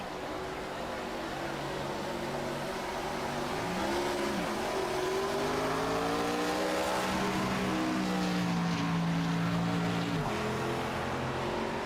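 Race car engine in the iRacing ARCA Series at Texas Motor Speedway, revving up through the gears with rising and dropping pitch at each shift, sustained and loud throughout.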